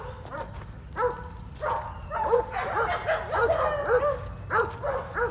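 Dogs in Mexico City yelping and barking in short repeated bursts, moderately close, over a steady low outdoor background hum.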